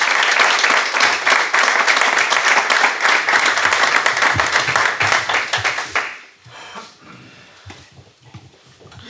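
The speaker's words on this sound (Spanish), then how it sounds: "Així que un aplaudiment als nostres convidats." Dense, loud audience applause for the guests at a book presentation, steady for about six seconds before dying away into scattered claps and room noise.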